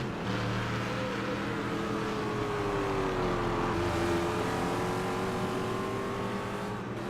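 Proto-GT race cars in a sim racing game run at Road America with a steady, loud engine whine that holds through shifting tones and has no talk over it.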